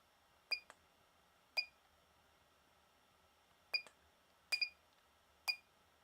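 Beacon beeping from a Pavo Pico drone: sharp, high electronic chirps, some single and some doubled, scattered irregularly over a few seconds against a quiet background.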